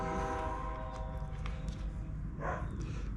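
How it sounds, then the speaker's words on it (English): A train rumbles steadily close by while a long, sustained horn blares over the noise, with a brief higher tone near the end. "Here comes another train."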